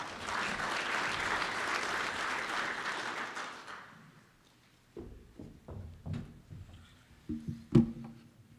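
Warm audience applause at a pig livability conference as a speaker is welcomed to the stage, steady for about four seconds then fading, followed by scattered thumps, footsteps and handling noises.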